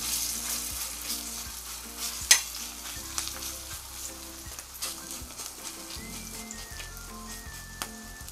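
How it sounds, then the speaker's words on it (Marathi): Shrimp batter hits hot oil on a griddle, giving a close, continuous sizzle and crackle with occasional scraping stirs and a sharp clink from a spoon. "तेल आपलं गरम झालंय, आता त्याच्यामध्ये हे बॅटर केलंय हे टाकून घेते"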